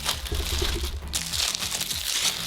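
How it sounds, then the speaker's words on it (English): Shrink wrap being ripped and peeled off a TackLife A6 tire inflator box, a close, steady crinkling and crackling of thin plastic lasting a few seconds, with no talk over it. "let's get this shrink wrap off"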